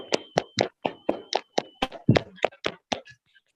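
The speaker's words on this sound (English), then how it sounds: "give a huge round of applause to these winning case authors" About a dozen crisp handclaps, evenly spaced and close, from an online audience applauding the winning case authors at a case writing competition conference. They stop abruptly after about three seconds.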